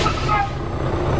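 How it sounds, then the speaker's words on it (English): A commercial tractor-trailer truck strains in gear against its set trailer brakes during a pre-trip brake check, a loud, steady low engine rumble with hissing broadband air noise throughout. "Now I'm gonna tug against my trailer brakes"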